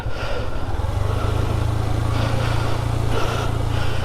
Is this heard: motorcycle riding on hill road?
yes